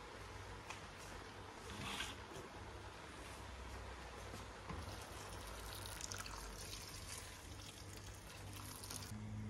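Water poured into a cooking pot for beans, a continuous soft splashing trickle lasting several seconds at low level with a faint hum beneath.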